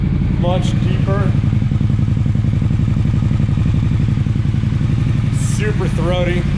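A Triumph Scrambler 1200 with a Zard low-mount exhaust idles loudly close by with a deep, throbbing pulse, while someone talks over it.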